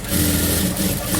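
A sewing machine stitching piping onto fabric runs in a steady, continuous whirring drone, close and fairly loud, with no voices.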